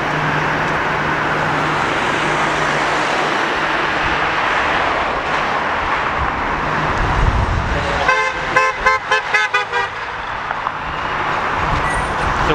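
Car horns toot repeatedly from passing traffic on a road outside a BAE Systems site in Cumbria, a burst of short rhythmic beeps near the end over a steady rumble of engines and passing vehicles.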